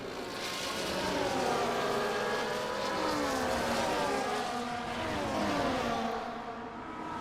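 F1 race cars on the final lap of the Australia race in a video game, engines screaming together in layered, overlapping revs and gear-shift sweeps, loud and continuous with no pause.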